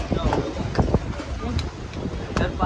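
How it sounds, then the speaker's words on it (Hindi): Gusty wind before a rainstorm buffets the microphone with a rough, roaring rush, while someone talks over it nearby in Hindi. "हवा चल रहा है ना"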